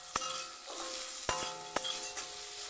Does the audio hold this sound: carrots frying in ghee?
yes